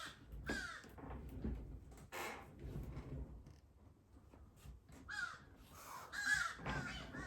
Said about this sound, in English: Does anybody speak crow? What's he saying? I wish I spoke crow.